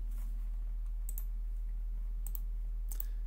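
Quiet typing on a computer keyboard, a few sparse clicks in small clusters over a low steady background hum.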